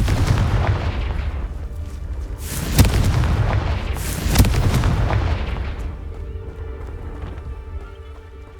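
In Hogwarts Legacy, a Confringo blasting spell detonates with deep rumbling booms and two sharp explosive cracks, the roar swelling and then fading into quiet near the end.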